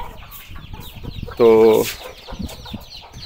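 A mother hen with her chicks gives a short, close cluck-like call under a brief spoken word, set against steady outdoor farmyard noise.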